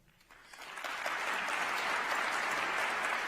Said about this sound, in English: please join me in giving all our elected officials and county leaders another round of applause